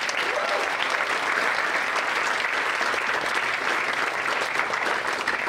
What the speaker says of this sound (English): So we need to give Mr. Edgar a round of applause